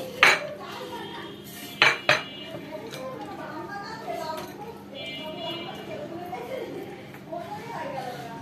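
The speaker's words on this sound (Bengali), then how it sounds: "এই তো শাক ভাজি একটা বাটিতে বেড়ে নিচ্ছি" Fried spinach cooked with split black lentils being served into a bowl, with several sharp metal clinks and clatters of utensils against cookware up close, followed by softer scraping and faint rustling.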